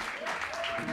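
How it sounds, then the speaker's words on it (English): A concert audience at an EP release show applauds in a brief, dense burst of clapping, with a voice faintly audible over it. "Let's have another round of applause."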